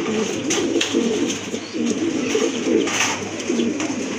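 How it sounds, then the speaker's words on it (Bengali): Pigeons cooing steadily at a pigeon seller's stall, a dense layer of overlapping low coos from several birds running continuously and fairly loud, with no talk over them. "এটা হলো প্রথম দশকের কবুতর"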